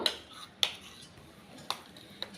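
Peanut paste being mixed into flour batter in a bowl, with a few light clinks of a spoon against the bowl and faint wet stirring between them.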